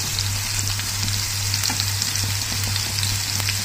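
Tilapia fish frying in a pan over low flame, a steady close sizzle and crackle with a constant low hum beneath, no talk.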